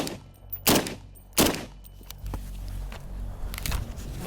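Gunfire from assorted firearms shooting at a Soviet Altyn helmet: two loud, sharp shots roughly a second apart, then a softer noisy stretch with faint crackles and a few weaker bursts near the end.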